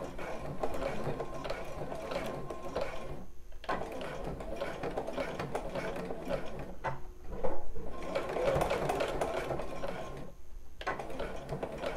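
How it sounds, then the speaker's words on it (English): A sewing machine stitches across a bra strap in a run of steady mechanical whirring that halts twice for brief pauses, close and fairly loud, with no speech over it. "Pop that in and sew across."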